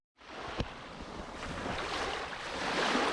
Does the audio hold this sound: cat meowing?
no